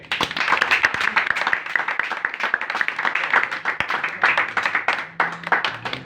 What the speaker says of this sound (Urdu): تحریری خدا کے لیے ایک بار زوردار تالیاں